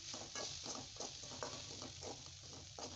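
Steady sizzle of a spatula stirring grated coconut with mint in a hot pan, with a soft rhythmic scraping every half second or so over continuous frying hiss.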